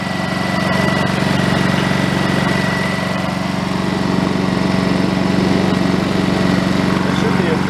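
Honda EU2200i inverter generator running steadily at close range, a smooth, even engine drone with a buzzy low hum and no change in pace throughout.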